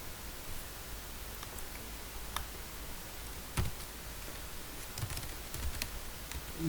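Quick, light typing on a computer keyboard, with scattered soft clicks and ticks at an irregular rhythm, faint and close, with no voices.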